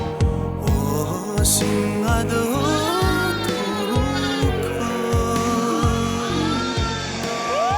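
A herd of sheep and goats on a Mongolian livestock farm bleats repeatedly, with overlapping wavering calls. Steady rhythmic thumps sound beneath them throughout.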